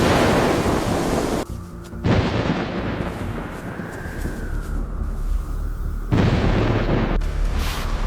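Heavy storm with thunder over a makeshift pallet shelter, deep loud rumbling bursts and roaring broadband blasts that cut out and return abruptly, filling the whole stretch with no voices.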